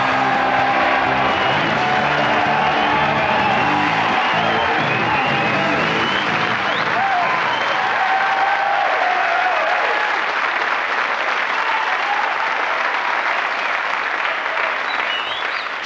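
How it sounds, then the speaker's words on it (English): A television studio audience applauds and cheers loudly for a racing driver's entrance, with dense sustained clapping and a few whoops that slowly thin out and fade toward the end. "Shall we just sit here for 10 minutes and let them applaud"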